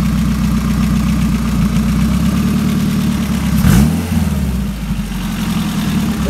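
A turbocharged Honda B16 engine idles steadily on a dyno, loud and close, with a brief blip of revs near the middle before it settles back to a smooth idle.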